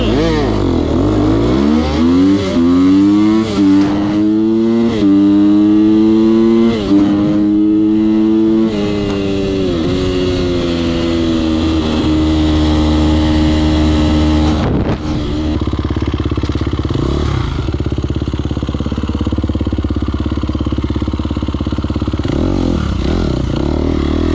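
KTM motorcycles revving hard and racing on a track, loud and close, engines climbing through rising pitch sweeps, with rattling and a sudden clattering break near the middle before the revving continues.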